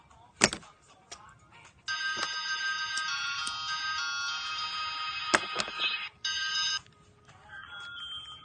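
A mobile phone rings with an incoming call, a bright electronic ringtone repeating in bursts after a couple of sharp knocks, fairly close, with brief gaps between rings.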